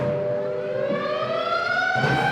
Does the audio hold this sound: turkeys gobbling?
no